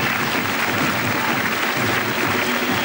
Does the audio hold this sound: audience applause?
yes